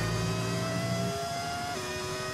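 The high, sustained whine of a V10 Formula 1 car engine in the F1 25 racing game, holding a steady pitch then shifting down as it changes revs, with no talk over it.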